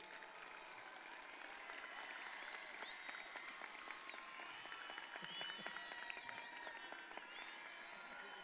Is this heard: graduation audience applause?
yes